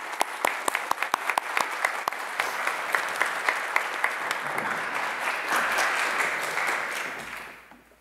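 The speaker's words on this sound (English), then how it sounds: "Everybody give a round of applause for her" A school presentation day audience applauds an award recipient: crisp individual claps at first, thickening into a full crowd round of applause that swells, then fades toward the end.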